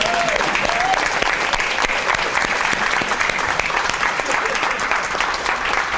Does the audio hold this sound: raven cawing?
no